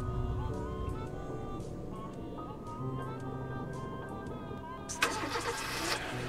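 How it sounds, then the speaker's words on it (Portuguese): A car engine in the horror video game Lucius runs steadily as a continuous mid-pitched hum, with a sharper mechanical burst near the end. "O carro está funcionando,"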